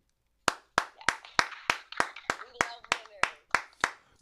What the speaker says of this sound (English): let's applaud the winners